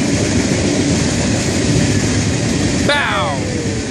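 FEC Train 202, led by locomotive #1397, rolls past at Holly Street with a steady rumble and roar, then a loud horn blast sounds near the end.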